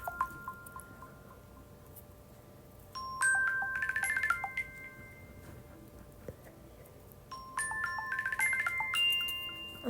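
Apple Watch Twirl ringtone on watchOS 11, a faint bright electronic chime pattern that plays twice, each pass a short run of tinkling high notes over a quiet background, no speech.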